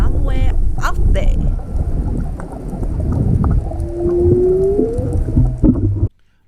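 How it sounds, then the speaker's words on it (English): Whale song recorded in open water off the Whitsunday Islands reef: a long, rising and falling moan sweeps through the middle of the clip, faint at first, over steady wind and water noise, then cuts off abruptly. "It's whale song."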